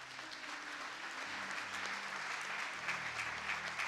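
A church congregation at a prophetic teaching session breaks into sustained applause, many hands clapping in a dense, steady patter with a low organ or keyboard chord sounding underneath.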